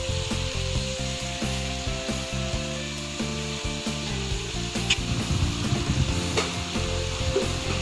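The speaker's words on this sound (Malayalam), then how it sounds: "ഇതിനെ നല്ല രീതിയിൽ ഉപ്പ് എല്ലാ ഭാഗത്തും എത്തുന്ന രീതിയിൽ ഒന്ന് മിക്സ് ചെയ്ത് കൊടുക്കുക" Beef sautéing in a clay pot sizzles under repeated scraping and rubbing strokes as it is stirred, a close, rhythmic mix of frying hiss and utensil scrapes.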